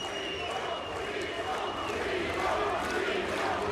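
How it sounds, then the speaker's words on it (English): Crowd roaring and cheering at a SENSHI 30 Grand Prix fight event while the scorecards are awaited, a steady broad wash of many voices filling the space with no gaps. "listen to the crowd"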